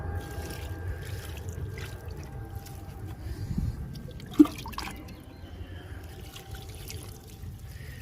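Liquid fertilizer mixed and poured a little at a time at the base of a dragon fruit plant, a soft, steady trickle and drip with one sharper splash midway, close and fairly quiet.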